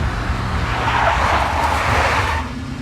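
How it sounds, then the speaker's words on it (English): Tires squeal as a big black Mercedes skids in a snowy blizzard pursuit in the Max Payne video game, a loud sustained screech lasting nearly three seconds over low engine rumble, with no voices. "A big black Mercedes."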